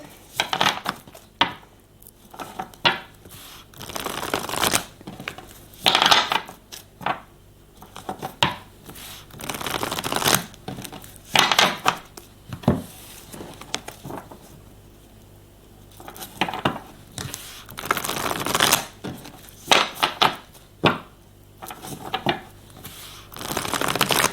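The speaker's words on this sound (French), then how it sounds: "il vaut mieux que je batte pour éviter que les cartes soient trop collées pour la coupe" A deck of playing cards is shuffled again and again up close, giving repeated riffling rattles and flutters in irregular bursts with short pauses between them.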